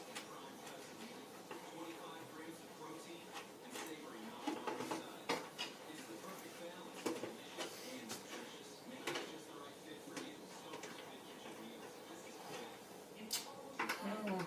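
A nut is put onto a plastic backing plate inside a kids' TK stormtrooper helmet, making a run of small close clicks, taps and scrapes with faint talk nearby.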